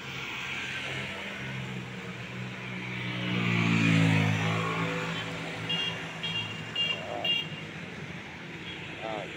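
Highway traffic rolls by in San Agustin, with one vehicle swelling past up close and a few short horn toots afterward, all under someone talking throughout.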